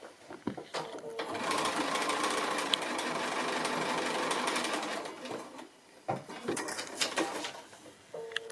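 A sewing machine stitches a foundation-pieced quilt block in one steady run of about four seconds, stops briefly, then whirs again in shorter bursts, close and fairly quiet, with no talking.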